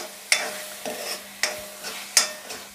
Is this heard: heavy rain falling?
no